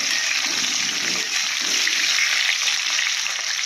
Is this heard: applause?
no